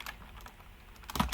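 Keys on a computer keyboard tap in a quick, light run of clicks, close and moderately loud, with a slightly stronger cluster of strokes at the end.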